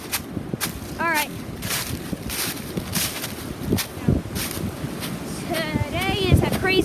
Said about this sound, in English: Today is a crazy day because of how much windy it is